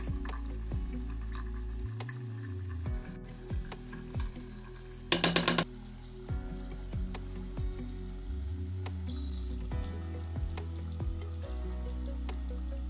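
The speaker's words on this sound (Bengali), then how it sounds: "এখন কিছুটা গরম তেল আর অল্প জল দিয়ে গ্যাসে বসিয়ে ঢেকে লো ফ্লেমে রান্না করব" Chhana curry cooks covered in hot oil and a little water over a low gas flame, giving a faint, steady sizzle with soft crackles and light ticking on the lid.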